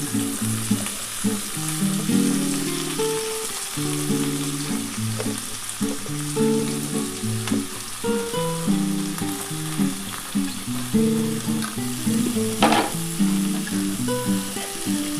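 Potato and bitter gourd fry in a pan, with a loud, constant sizzle close by and repeated stirring scrapes and clinks throughout.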